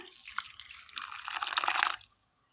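Water is poured into a mixer grinder jar holding cooled roasted coconut, a close, bright splashing that builds for about a second, then cuts off abruptly.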